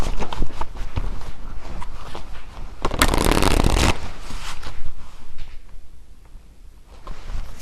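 Close-up rustling and riffling of a deck of cards being shuffled, with a louder burst of riffling in the middle.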